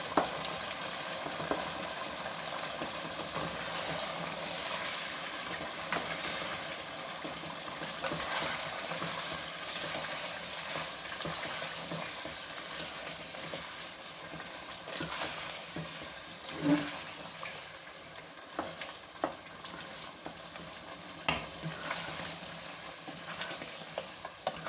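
Palak chicken with added coconut milk powder sizzles steadily in a hot pan as it is sautéed, a continuous frying hiss with occasional stirring scrapes throughout.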